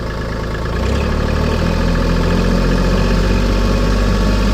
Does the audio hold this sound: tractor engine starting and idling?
yes